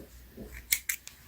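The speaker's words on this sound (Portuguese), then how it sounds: "Eu já posso cortar o fio," Scissors cutting crochet yarn at the end of a baby sandal, two or three quick crisp snips close by in a quiet room.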